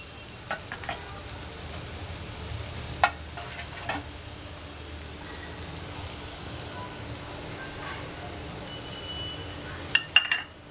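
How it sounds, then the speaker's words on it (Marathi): Beaten eggs for egg bhurji fry in a hot pan with a steady soft sizzle, and a few sharp spoon or spatula taps against the pan cut through it. "आता आपण याच्यामध्ये अंड सोडूया"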